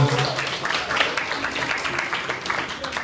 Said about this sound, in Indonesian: Kasih tepuk tangan buat kalian semua.